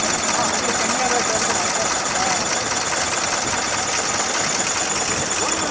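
A tractor engine runs steadily in a sugarcane field, a loud continuous rattling drone with hissing and knocking that stays even throughout.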